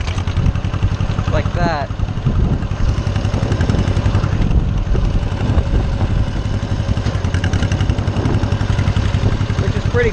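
Small tractor running with its PTO engaged, a steady, loud, close mid-pitched engine chug with some clatter, while someone talks over it.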